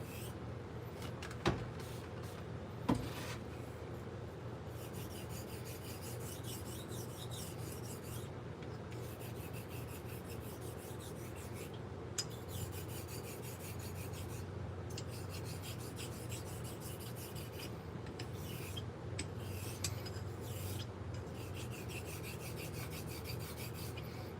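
A knife blade is stroked along a convex hone, a Cajun Blade, in a steady, continuous rasping rub with a couple of sharp clicks near the start, with no talk heard.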